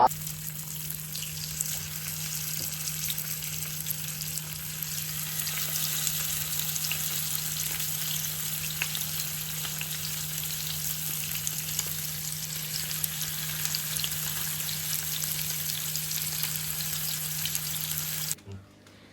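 Trout caught on a fishing line fries in a pan with a steady, loud sizzle that holds evenly for about eighteen seconds, then cuts off abruptly.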